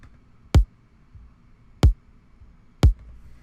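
Three dry kick drum hits without glue compression, each a short punchy thump with a quick decay, spaced about a second apart over faint background noise.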